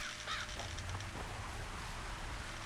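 Crows caw in The Witcher 2 video game, a few harsh calls early on over a steady ambient background of game noise, with no talking.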